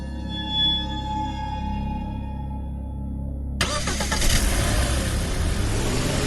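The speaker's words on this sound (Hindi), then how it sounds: "सैम ने अपनी कार चलाई और जंगल के उस अंधेरे रास्ते से दूर निकल गया" A car on a dark forest road starts up after a low steady hum, then pulls away with a sudden loud burst of engine noise and rising revs that carries on steadily.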